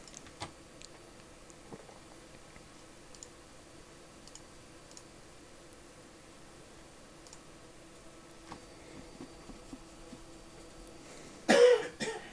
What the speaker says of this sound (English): Why am I hearing myself cough